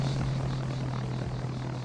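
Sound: airplane flying overhead in video game Arma 3

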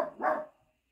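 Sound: dog barking

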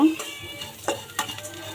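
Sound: flattened rice (chira) being stirred and fried in a pan

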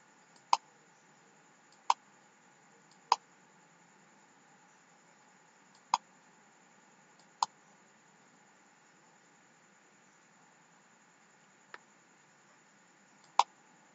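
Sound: computer mouse clicking

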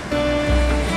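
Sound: Kunhar river water roaring, louder when closer

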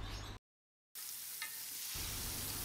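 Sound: stirring chicken pieces in flour coating

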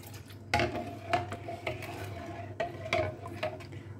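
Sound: stirring mango milk pudding mixture in a pot

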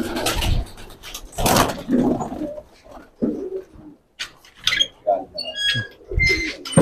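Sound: pigeons cooing

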